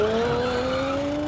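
A car's tires squeal in the Mafia video game, a steady high-pitched whine that slowly rises over engine rumble and lasts briefly.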